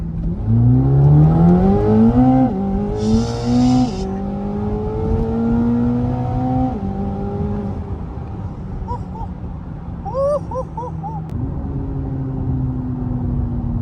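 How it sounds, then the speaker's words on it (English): A 2026 Corvette ZR1 accelerates hard with a loud, climbing engine roar, pitch dropping at each gear shift, with a whooshing turbo hiss between shifts. "You can hear the shifts of the turbos."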